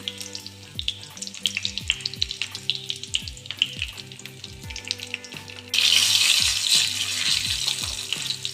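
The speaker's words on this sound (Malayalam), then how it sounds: "നമുക്ക് ലേശം കറിവേപ്പില വറുത്തിട്ട് കൊടുക്കാം." Light clinks and quiet frying give way to a sudden loud sizzle and crackle as curry leaves hit hot oil, continuing strongly to the end.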